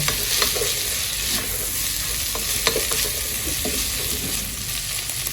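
Vegetables stir-fry loudly in a hot pan for fried rice, with the scrape and clatter of stirring repeating throughout and no voices.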